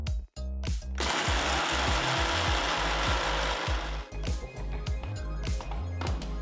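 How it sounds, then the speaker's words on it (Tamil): A kitchen mixer grinder powders roasted spices for a brinjal recipe, running in loud, rattling bursts with short stops between pulses. No one talks over the machine. "ஆறுனதும் ஒரு மிக்சர் ஜாருக்கு மாற்றி பொடியாக அரைச்சிக்கலாம்"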